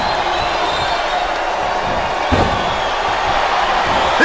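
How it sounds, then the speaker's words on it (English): Arena crowd noise in the WWE SmackDown vs Raw 2008 wrestling video game, a loud continuous roar of cheering with a brief thud near the middle, and no voices over it. "This superstar is all fired up, and so is this capacity crowd."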